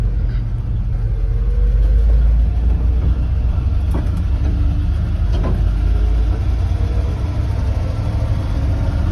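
An old 1968 Dodge 3/4 ton truck rolls down the road from inside the cab, a loud, continuous low engine rumble and road roar with faint rattles and a couple of clicks, no talking.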